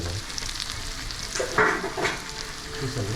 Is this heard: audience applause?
no